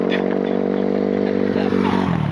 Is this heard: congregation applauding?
no